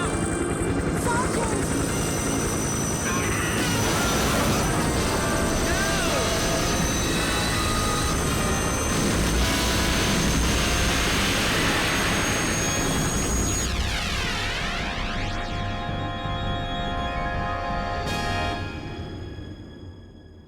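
A helicopter in the Dreamcast game Carrier is hit by ship defences and goes down: a loud, roaring rotor and engine din mixed with clanking and whooshing, then a descending sweep before it fades out, with a voice speaking over it.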